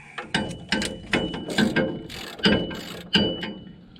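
Hand ratchet fitted with a 19mm socket turning banjo bolts. It clicks in repeated quick bursts with short pauses between them, close and clear.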